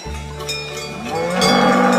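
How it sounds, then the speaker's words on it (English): A cow moos in one long, loud, low bellow. The call rises and swells toward the end and is heard alone, with no talk. "Cow."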